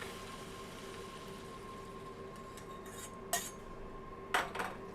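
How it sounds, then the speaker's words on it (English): Hot stock pours steadily into rice in a paella pan of shellfish, chicken and chorizo, a continuous soft liquid hiss broken by two sharp metallic clinks near the end, with no talking. "And then we're going to add our hot stock."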